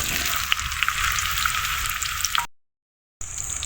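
Sliced bitter gourd fries in soybean oil in a karai, giving a loud, steady hiss with scattered pops up close. The sizzle cuts out briefly to silence, then resumes.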